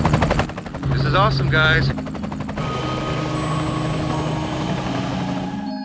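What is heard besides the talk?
helicopter taking off for aerial tour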